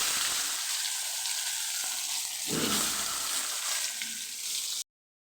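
Salted, turmeric-coated pointed gourd frying in hot oil, giving a continuous hissing sizzle, close and fairly loud, with a soft stir or shift partway through before an abrupt stop.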